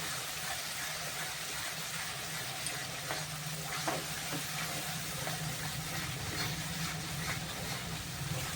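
Cauliflower curry fries and sizzles in oil in a pan, a steady soft hiss with a few faint scrapes of stirring throughout, with no voices.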